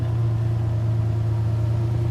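A Lamborghini in the racing game NFS Heat gives off a steady, low engine drone at an even idle, constant and fairly loud with no one speaking.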